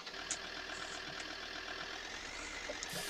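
A Land Rover idles on a farm, a steady low engine rumble running unbroken through the whole stretch at a moderate distance, with faint clicks above it and no voices.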